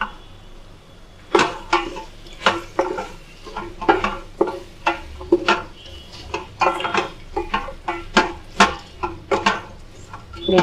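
Beetroot and carrot pieces frying in a pan, a faint sizzle under repeated sharp scrapes and taps of a spoon stirring against the pan in an uneven rhythm, close and fairly loud.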